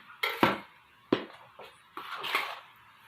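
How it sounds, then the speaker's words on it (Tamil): Ghee-fried cashews and raisins are stirred into kesari in a pan, with a few close, soft scraping and clattering strokes spaced out over a quiet background. "இப்போ இது கூட நான் வந்து நெய்யில் வதக்கி வச்ச முந்திரி திராட்சையை சேர்த்துக்கிறேன்."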